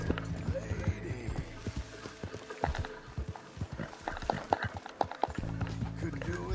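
Hooves clip-clop in an uneven walking rhythm at close range, with a horse snorting and a person speaking softly now and then.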